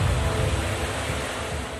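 Fast floodwater rushes over a bridge in a broad, loud, unbroken roar of churning water, heavy in the low end and steady throughout, with no voices.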